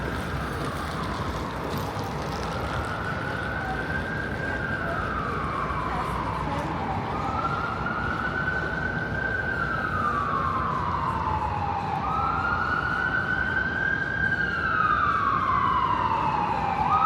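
An ambulance siren wails in slow rising and falling sweeps on a downtown Toronto street near King and York on an early Friday evening, growing louder over steady traffic and street noise.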